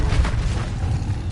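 A short, muffled magical blast from the Confringo fire spell in the Hogwarts video game, a low rumbling boom that swells and fades over about a second.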